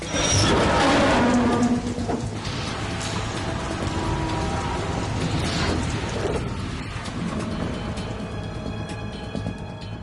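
Steady rain from the Metal Gear Solid 2 video game, a dense continuous hiss with rattling mechanical clanks, loud at first and then holding at an even level.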